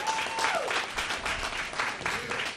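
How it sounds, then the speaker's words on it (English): A crowded evening audience at a community health talk claps and cheers steadily throughout, a dense, continuous wash of applause with a few voices calling out. "Now clap like you believe that. Come on, make some noise in here."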